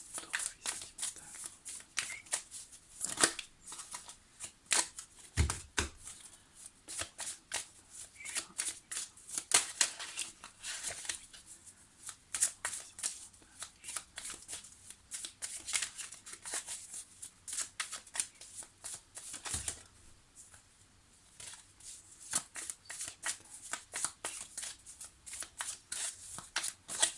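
Tarot cards shuffled by hand for a reading, a long run of soft riffling and flicking with brief pauses and a quieter stretch near the end, close and fairly quiet with no talking.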